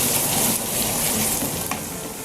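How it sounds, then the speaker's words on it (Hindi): Garlic ginger paste sizzles steadily in hot oil in a pan while cooking for a spiced bhindi dish, a dense close-up frying crackle with no talk over it. "अब इसमें लहसुन अदरक का पेस्ट हम डालेंगे। बिस्मिल्लाहिर्रहमानिर्रहीम। इसको थोड़ा सा लाइट सा ब्राउन करेंगे।"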